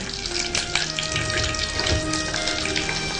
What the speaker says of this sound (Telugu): ఇవి నేతిలో వేయించుకోవాలి